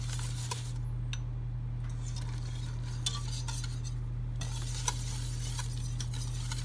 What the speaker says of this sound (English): what you're going to do now is just stir it in